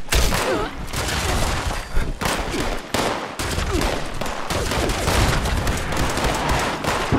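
Artillery strike in the Fallout 76 video game: a dense, sustained barrage of loud explosive bursts and gunfire-like cracks rolls on without letup, with brief dips between volleys.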